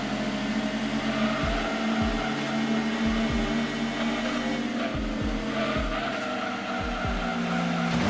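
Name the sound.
race car engine and tire squeal from Gran Turismo video game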